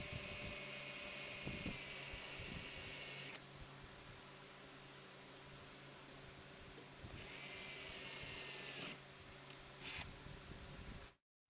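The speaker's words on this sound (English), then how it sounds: "I'll stop drilling and check my progress several times to verify that my drill bit has not begun to" A high-pitched drill whines steadily for a few seconds boring through the tang of a Case 6232 knife, stops, then starts again in a second run before cutting off.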